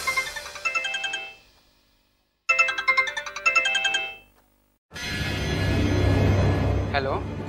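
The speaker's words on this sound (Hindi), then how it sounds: "फिर हमने खान मार्केट के लोकल फोन से राजन को फोन लगाया।" A phone's electronic ringtone plays in two bursts separated by a short silence, followed by a person speaking.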